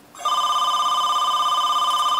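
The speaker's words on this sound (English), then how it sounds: "Phone going off." A telephone rings loudly and alone with a steady electronic warble that holds for about two seconds before cutting off.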